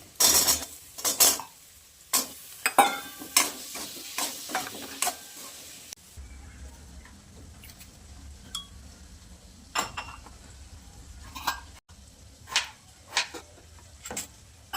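Potato frying in a pan with turmeric and masala, stirred with a metal spoon: sharp scraping and clinking strokes over a quiet sizzle, with intermittent spoon knocks against the pan.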